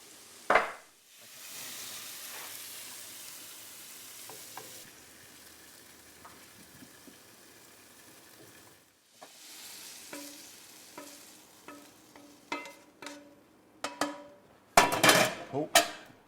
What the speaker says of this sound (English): And how could we forget our delicious stir-fried cabbage?